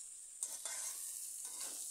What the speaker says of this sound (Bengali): এবার এই ডাঁটা সব কিছুর সাথে আলুও কিছুক্ষণ আরও ভেজে নেব